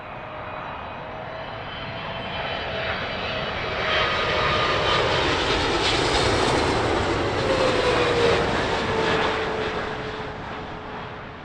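American Airlines airliner landing on runway 27 left at Heathrow at sunrise, a loud engine roar that swells as the jet passes close, with a gliding whine, then slowly fades.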